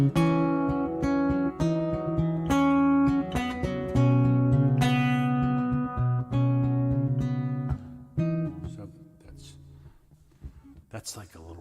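Acoustic guitar riff played with a capo, plucked notes and chords in a lively repeating pattern, close and fairly quiet, trailing off into softer notes and small handling noises at the end.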